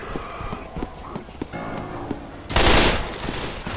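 Gunfire from the PC video game Left 4 Dead 2 comes as a dense, loud burst of shots in the final second, following a stretch of quieter game noise with sharp clicks and thuds, and no talking.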